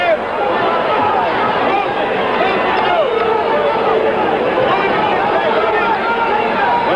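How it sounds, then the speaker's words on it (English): A large boxing arena crowd at the Muhammad Ali vs Alfredo Evangelista fight keeps up a loud, continuous roar and babble, a thick wall of voices holding steady throughout with no pauses. "Crowd roars as Evangelista"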